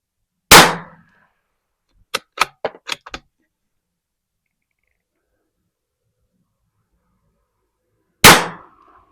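A Ruger Precision Rifle fires at an outdoor 100-yard range: two loud, sharp gunshots several seconds apart with short decaying tails, and between them a quick run of crisp metallic clicks.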